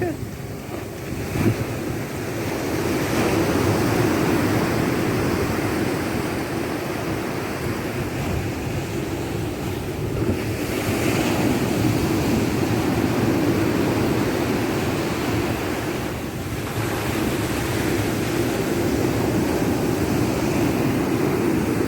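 Sea waves surge and wash onto an eroding beach at Ulee Madon in Aceh, a steady broadband roar with wind buffeting the microphone throughout and faint voices talking in the background.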